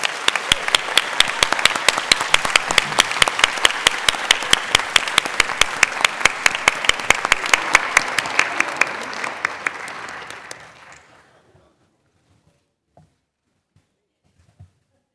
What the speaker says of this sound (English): And again, one last round of applause.